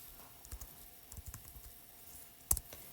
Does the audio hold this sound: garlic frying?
no